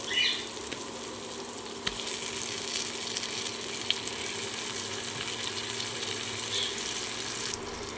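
Mashed potatoes sizzling in a pan with fried onions and spices for aloo chokha, a steady broadband hiss that holds evenly throughout with a few faint clicks, close and moderately loud, with no talking.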